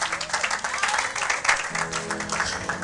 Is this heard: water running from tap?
no